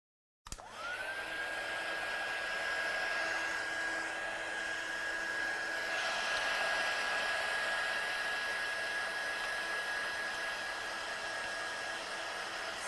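A hair dryer switches on abruptly and blows continuously to dry watercolour paint on paper, a loud, close, steady whooshing roar with a thin high whine that holds for over ten seconds, no talking.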